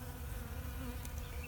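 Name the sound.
bees buzzing around a bird bath water source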